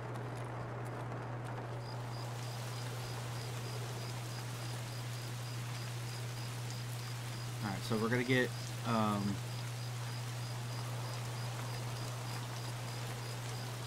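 Constant light rain in the shooter Escape From Tarkov, a steady hiss pattering evenly throughout over a low hum, with someone speaking briefly in the middle.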